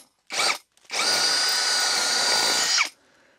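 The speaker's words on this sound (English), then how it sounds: "I'm gonna start off with a small masonry bit here on this circle." A drill fitted with a small masonry bit bores into a wall outdoors, a short burst followed by a steady, loud whine lasting about two seconds, then stopping.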